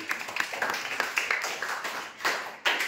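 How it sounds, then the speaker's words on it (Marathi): A classroom of children clapping together in a quick run of claps to praise a correct answer, close and lively, with a few louder, uneven claps near the end. "टाळ्या वाजवायच्यासाठी."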